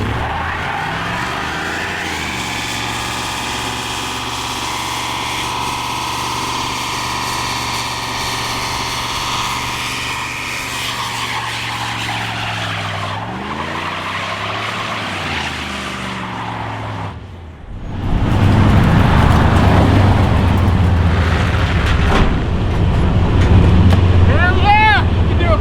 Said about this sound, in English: and that's a burnout.